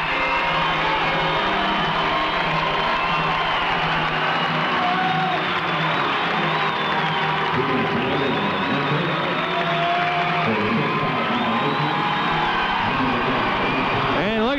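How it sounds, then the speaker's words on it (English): Crowd cheering at a 1987 Canton Invaders indoor game against the Memphis Storm, a loud, sustained roar with whoops and yells filling the arena, under a commentator's voice. "And listen to the crowd."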